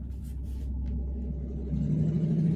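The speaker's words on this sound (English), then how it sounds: "loud truck" A loud truck passing outside gives a low, building rumble that swells toward the end of the short stretch, with no voices over it.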